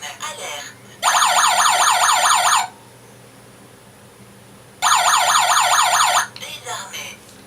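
Two loud bursts of a warbling electronic home security alarm siren, KERUI G18, each lasting about a second and a half, separated by a quiet pause, with brief faint talk around them.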